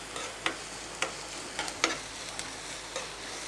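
Jackfruit seed podimas sautéed and stirred in a pan, a steady sizzle broken by a few sharp clinks of the spoon against the metal at uneven intervals.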